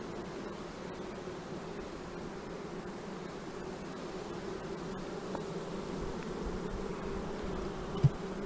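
Honeybees from a small colony with little brood drone steadily and close by in a continuous, even buzz that holds throughout, with faint clicks and rustles underneath.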